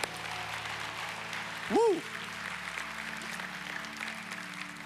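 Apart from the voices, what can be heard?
church congregation applauding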